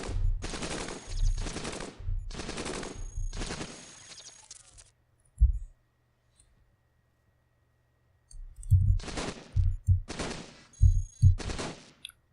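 Assault rifle gunfire in the video game Cogmind, two clusters of rapid automatic bursts separated by a silent gap, crisp and close with no talking.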